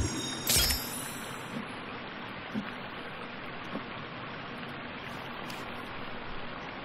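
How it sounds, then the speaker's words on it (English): Constant waterfall ambience in the video game The Forest, an even, rushing wash of noise that fills the whole stretch, with a sharp brief burst near the start. "that waterfall sound is literally everywhere, ain't it?"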